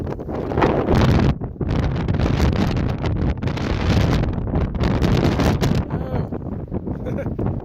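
Strong gusting wind roars continuously across the microphone on a 13,000-foot Colorado mountain summit, loud and buffeting throughout with brief lulls.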